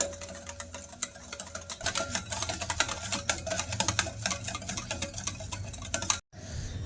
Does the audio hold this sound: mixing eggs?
yes